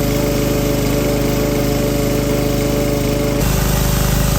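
A pressure washer rinses snow foam off a car during a mobile detail: a loud, close, steady motor drone with a constant mechanical whine, shifting slightly in tone near the end, and no voices.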